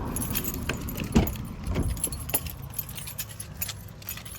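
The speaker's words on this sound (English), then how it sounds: "I just might crank my car up." Keys jangle and clink close by inside a car as it is started, with a few sharp metallic rattles over a low, steady rumble of the vehicle.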